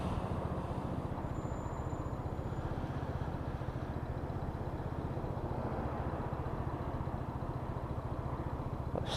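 Lexmoto Titan motorcycle engine idling at traffic lights after a repair, a steady low chugging tick-over with an even pulse throughout, close and continuous with no talk.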